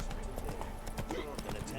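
Roach the horse trotting in The Witcher 3 video game, hooves clip-clopping in a quick, even rhythm through the brief stretch while someone talks over it.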